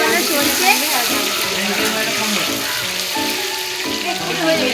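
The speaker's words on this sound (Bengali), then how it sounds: "এই যে এখানে এখন পনির হচ্ছে, ঝুমাদি পনির রান্না করছে।" Paneer cooks at an outdoor neighbourhood picnic with a steady, fairly loud sizzling hiss that runs without pause, while people talk and chatter faintly in the background.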